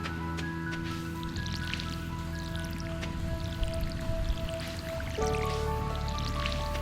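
Crops get watered in the farming game Stardew Valley, with light dripping, squishing splashes repeating over a steady background of sustained musical tones.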